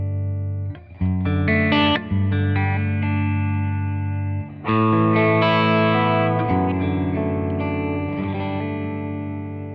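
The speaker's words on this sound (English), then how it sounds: "So there's your room reverb." Distorted electric guitar chords through a Boss RV-200 pedal's room reverb, ringing out with a roomy reverb tail, loud and sustained, with a few brief breaks between strums.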